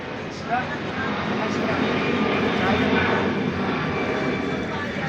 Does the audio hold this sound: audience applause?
no